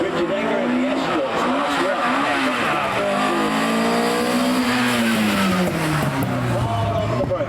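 A Ford Escort rally car climbs the Prescott speed hill climb, its engine revving loud and close in repeated rising and falling sweeps as it works through the gears, with a commentator talking over it.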